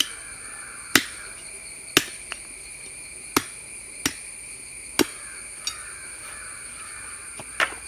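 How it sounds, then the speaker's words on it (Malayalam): A wooden stick is cut for a handmade natural table with a string of sharp, close chopping strikes, about one per second, each a crisp knock over a faint steady outdoor background of insects and birds. "അപ്പോൾ അതൊന്ന് കട്ട് ചെയ്തെടുക്കാം."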